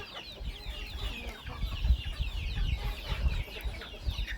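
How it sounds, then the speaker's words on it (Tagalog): Native chickens clucking excitedly at morning feeding time, a busy, continuous flock chatter close by with scratching and movement underneath. "the chickens are already excited because they know it's"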